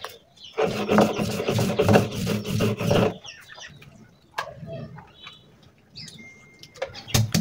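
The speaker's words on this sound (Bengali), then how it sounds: "আর এখন প্রথমে কেটে রাখা পেঁয়াজ রসুনগুলো বেটে নিচ্ছি।" Chopped onions and garlic are ground into paste with a rhythmic rasping, rubbing sound for about three seconds. Softer scraping and bird chirps follow.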